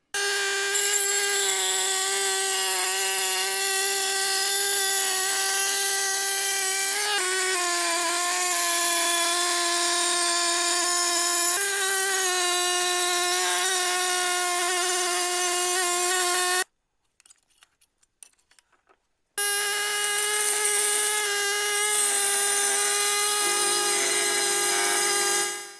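Power saw cutting rear window channel sheet metal on a Mercedes W126 during rust repair, a loud sustained tonal whine in long passes, broken by a short pause before cutting resumes.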